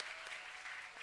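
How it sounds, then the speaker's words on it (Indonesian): Brief, soft applause from a studio audience at a televised religious talk show marking a university's 49th anniversary, a steady patter of clapping heard a little distant. "Boleh berikan tepuk tangan lagi."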